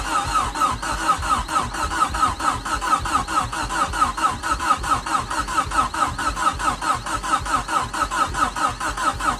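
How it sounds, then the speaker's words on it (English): A Ford Fiesta RS Turbo engine, unstarted for over four years, cranking over on the starter without catching, a steady rhythmic whirring churn repeating several times a second throughout, close and loud. "Okay, we are turning over."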